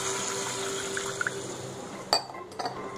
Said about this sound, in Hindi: मैं 1 गिलास पानी डाल दूंगी इसमें।